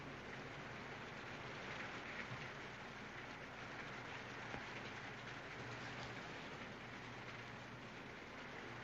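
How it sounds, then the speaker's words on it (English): Rain falling steadily, a soft, even, continuous wash heard from a distance, with no clear easing across the span and no talk. "The rain's stopping."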